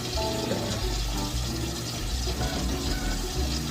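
Hot water runs steadily from a kitchen tap, a constant close rushing splash that holds for the whole stretch with no talk over it.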